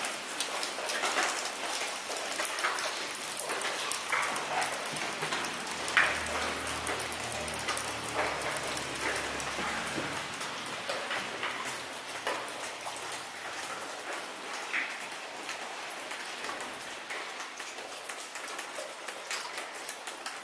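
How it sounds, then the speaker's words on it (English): Steady, dense rain patter fills the scene continuously, with a few faint bird calls breaking through now and then. "Yeah, it's raining pretty good."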